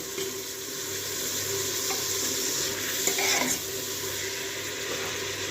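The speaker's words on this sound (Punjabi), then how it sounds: "ਤੇ ਚੰਗੀ ਤਰ੍ਹਾਂ ਜਿਹੜਾ ਹੈਗਾ ਮਿਕਸ ਕਰ ਲਾਂਗੇ" Potato and pea curry is mixed in a pan with a spoon, a soft steady sizzle beneath gentle scraping and one brief louder clatter near the middle, close and without talk.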